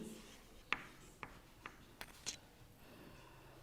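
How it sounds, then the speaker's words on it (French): A pen or chalk scratches out a short word on paper or a board in a classroom, five or six quick, faint strokes and taps close by in a quiet room. "Je l'écris."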